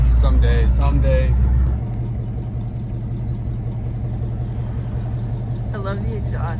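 A Chevrolet Camaro's exhaust gives a deep, steady rumble that is loud at first and then settles to a lower, even drone, with people talking over it at the start and again near the end.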